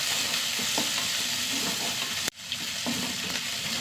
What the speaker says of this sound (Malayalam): പച്ചമുളക്, ചെറിയുള്ളി ഒന്ന് വഴണ്ട് വരട്ടെ